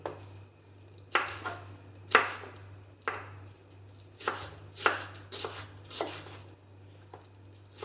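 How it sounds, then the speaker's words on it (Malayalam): A knife chopping five or six green chillies on a cutting board, a series of sharp, close taps spaced about a second apart, some in quick pairs, against a quiet background with a low hum. "ഇനി പച്ചമുളക് അരിയണ കാണിക്കാം. ഒരു 5-6 വെച്ചിട്ട് അങ്ങോട്ട് അരിയണേ."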